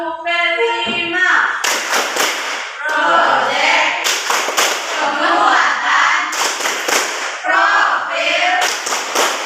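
Rhythmic group hand clapping in a classroom, a clapping chant led during an ice-breaking activity, with bursts of sharp claps alternating with children's voices and speech throughout.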